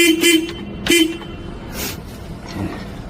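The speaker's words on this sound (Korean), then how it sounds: "빵빵이 스위치 크락션" Two short, sharp horn toots in quick succession, close and loud, followed by a brief whooshing noise and a faint low thump.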